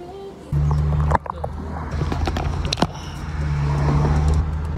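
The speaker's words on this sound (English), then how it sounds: "Dude, why is a car parking next to me?" A car pulls in and parks right alongside, its engine idling with a low hum, a door or body thud partway through, and the motor settling back to a steady rumble nearby.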